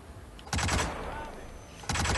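Two sharp bursts of rapid gunfire in the Hitman beta on PS4, each a short loud volley separated by a brief quieter gap.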